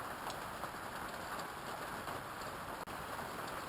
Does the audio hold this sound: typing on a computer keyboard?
no